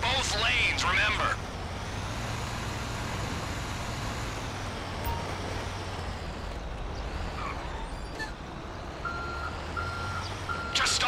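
A truck's engine rumbles steadily in the Grand Theft Auto V video game, with a string of evenly spaced reversing beeps near the end and voices talking over the scene.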